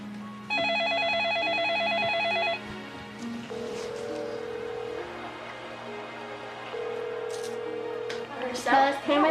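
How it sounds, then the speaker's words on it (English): A portable telephone keypad dials a quick run of steady beeping tones, then a ringback tone sounds in long repeated pulses over faint background hiss, with a brief burst of noise at the end. "10-year-old Melissa went to call on the portable phone."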